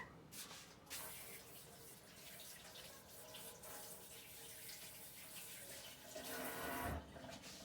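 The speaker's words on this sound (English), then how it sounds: "Let me rinse my hands." Hands rinsed under a running kitchen tap, a close, continuous rush of water with splashing that swells near the end, quiet overall and heard alone.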